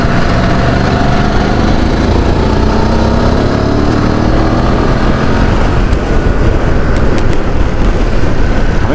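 A BMW F900 GS Rally motorcycle engine runs close and loud throughout, its rising and falling harmonics suggesting revving on a windy ride, with steady wind buffeting underneath.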